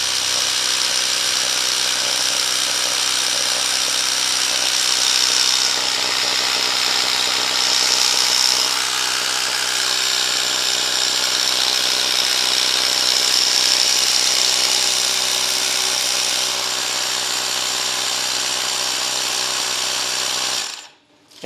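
A Ryobi cordless tire inflator, set to 13 pounds, runs steadily as it pumps air into a tire on a neglected Ariens machine, a continuous close motor whine and buzz that holds for about twenty seconds before cutting off abruptly.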